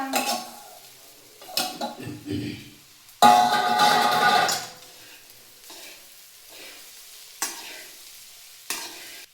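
Sabudana khichdi with crushed peanuts, green chilli paste and salt being stirred in a pan: scattered scraping stirs, one louder burst of clatter and sizzle, then a couple of sharp spoon knocks, close by.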